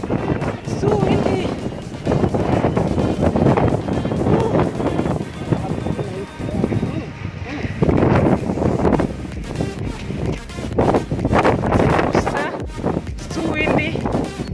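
Strong wind buffeting the microphone on Marsabit Mountain during a hike, a loud, continuous rumbling roar with gusty swells throughout, while people talk intermittently underneath.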